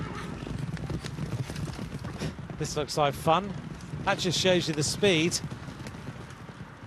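A horse gallops along the road beside the Tour de France peloton on stage 19 from Bourg-en-Bresse to Champagnole, its hoofbeats blending into crowd noise and ongoing commentator talk.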